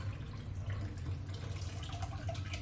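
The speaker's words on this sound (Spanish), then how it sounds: "lo único que hacemos es lavarlos con agua así del chorro de la llave" Kefir grains are rinsed in a plastic strainer under a running kitchen tap, a steady splashing stream of water with close, continuous gurgling and spattering and no talk.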